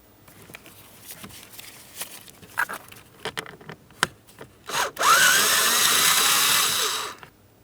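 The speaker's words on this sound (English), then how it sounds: "we can remove our two T20 Torx screws" Two T20 Torx screws being removed from the front HVAC blower motor resistor of a 2008-2016 Chrysler Town & Country, with scattered close clicks and taps, then a loud steady power-driver whir lasting about two seconds before stopping.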